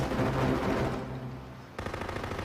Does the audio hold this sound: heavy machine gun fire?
yes